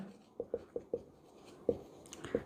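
Marker or pen writing labels on an RCC singly reinforced beam drawing, a series of short, close scratchy strokes in quick succession with a few spaced later ones, alone at low level.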